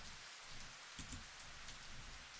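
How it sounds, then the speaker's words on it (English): Steady rain striking the ground in a game setting, a soft, even hiss throughout with a brief heavier burst near the one-second mark, faint and alone. "just the hum of the rain as it struck the ground"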